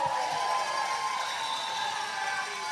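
Crowd cheering at a roller derby game, a steady broad roar of many voices sustained throughout, loud and continuous with no clear breaks.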